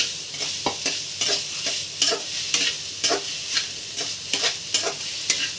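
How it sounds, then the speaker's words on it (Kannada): Coconut barfi mixture being stirred and fried in a pan, with a steady sizzle under repeated scraping strokes of a spoon at a regular rhythm, close and fairly loud, with no voices. "ಈಗ ಇದನ್ನು ಹಾಕಿ ಚೆನ್ನಾಗಿ ಹುರ್ಕೊತೀನಿ. ಒಂದು ಕೆಂಪಗೆ ಸ್ವಲ್ಪ ಎಲ್ಲ ಅದು ನೀರೆಲ್ಲ ಇದಾಗಬೇಕು."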